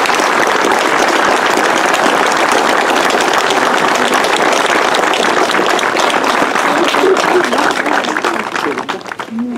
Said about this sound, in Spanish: Y yo quisiera también que le demos un fuerte aplauso a su mamá.